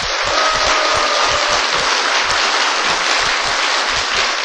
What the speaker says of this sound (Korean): 박수 한번 해줘요